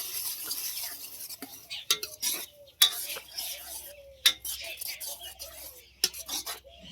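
A spoon scrapes and knocks against a pot while tomato and ketchup are mixed quickly for Manchurian, giving irregular clinks and rasping stirs at close range with a faint murmur in the background.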